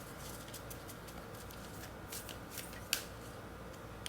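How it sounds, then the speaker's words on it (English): Faint, close shuffling of a tarot deck gives soft repeated papery rustles and small flicks over a low background hiss, with one sharp tick near the end. "So let me shuffle these cards."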